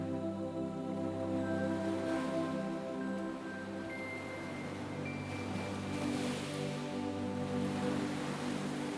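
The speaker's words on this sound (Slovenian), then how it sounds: "Valovi te božajo, zasidrajo te v ta trenutek." Steady ocean surf washes in continuously beneath a sustained tonal music drone, the wave noise swelling gently without any talking.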